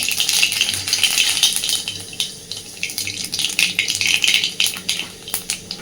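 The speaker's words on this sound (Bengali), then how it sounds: "কড়াইতে তেল গরম করে নিয়েছি এবার ফোড়নে দিচ্ছি একটু কালো জিরে" Nigella seeds crackle and sizzle in hot oil, a steady bright hiss with rapid popping and spitting throughout, fairly close.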